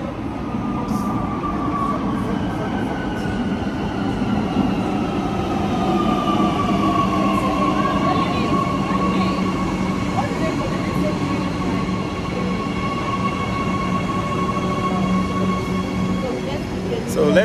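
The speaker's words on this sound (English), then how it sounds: "Okay, the train is coming." A Gautrain high-speed train pulls into a station, its steady rumble mixed with rising and falling wheel squeals and rail hum, loud and close for the whole stretch.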